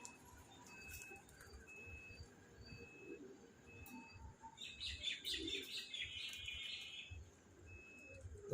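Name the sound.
pigeons calling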